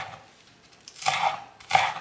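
A knife chops a green bell pepper on a cutting board, giving two or three short, dull knocks with a faint crisp edge, close and isolated with no talking.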